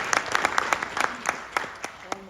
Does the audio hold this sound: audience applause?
yes